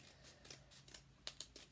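Scissors snip through folded paper to cut off two triangles, a handful of quiet, sharp crisp clips in an irregular rhythm, close up in a still room.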